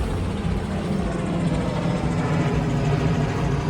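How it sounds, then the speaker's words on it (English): A helicopter flies overhead with a loud, steady, broadband rotor-and-engine roar that fills the whole short span without fading, and no one speaks. "that was a helicopter"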